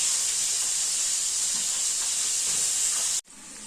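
Potatoes for meat curry and fish curry fry together in hot oil, a steady loud hiss and sizzle that runs evenly before cutting off abruptly near the end, then resuming more faintly.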